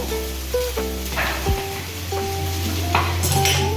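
Cumin stirred in a pan for poha, with loud metallic clinks and scrapes of a spoon against the pan over a faint background hum.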